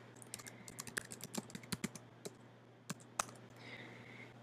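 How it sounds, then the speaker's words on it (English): Keys clack on a computer keyboard as a search is typed, a quick irregular run of close, soft taps with short pauses, then a couple of final presses, in a quiet room. "So I'm going to go to Google and just type it in."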